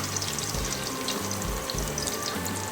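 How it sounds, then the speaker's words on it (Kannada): Garlic and crushed ginger frying in hot oil after mustard seeds and cumin, a steady close sizzle with low bubbling and crackle throughout, no voices. "ಫ್ರೈ ಆಗ್ತಾಯಿದೆ"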